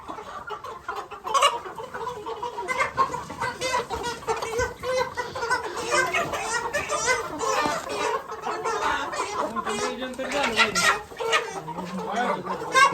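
Several caught chickens clucking and squawking close by at a village fair in Maharashtra, busy and overlapping throughout, with some faint human voices mixed in.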